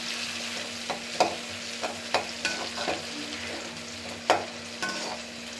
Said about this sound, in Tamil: அது நல்லா வதங்கட்டும்